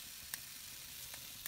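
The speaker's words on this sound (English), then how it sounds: "Sizzle." Food sizzling as it fries in a pan, a steady hissing crackle with a few sharp pops and clicks, close and alone without speech.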